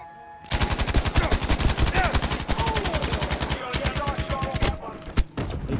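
Mounted machine gun in Battlefield V hammering out a long, rapid, loud stream of shots for about five seconds, with a brief pause near the end, while faint voices and battlefield noise sit underneath.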